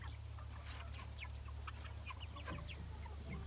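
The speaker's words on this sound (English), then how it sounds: "This is the laying hens." Laying hens cluck softly in scattered bursts over a steady low hum on a farm, with a few sharper calls standing out; no talking.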